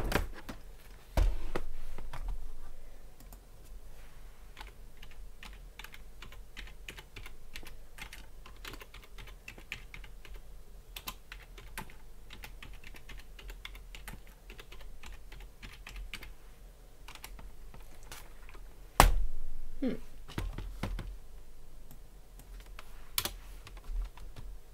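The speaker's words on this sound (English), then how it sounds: "You'll hear me typing here for a sec." Steady typing on a computer keyboard, fairly close and quiet: a long run of rapid irregular key clicks with brief pauses and a couple of louder thumps.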